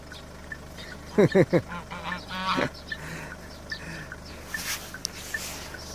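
Geese and ducks honk outdoors on a cold day along a path toward a mountain, giving a quick burst of three or four loud, close honks followed by a shorter call, with faint ambient noise afterward.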